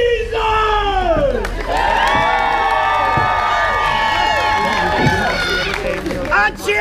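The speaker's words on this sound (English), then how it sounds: "A cheer for Jesus!" A group of voices raise a loud, ragged cheer together, whooping and shouting in overlapping pitches that swell, dip briefly and rise again, with children's voices among them.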